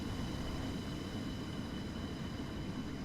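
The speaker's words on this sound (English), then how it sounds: "Jet engine." Continuous jet engine roar in the video game Stormworks, a steady broad rushing drone with a faint high whine, holding level and alone for the whole stretch.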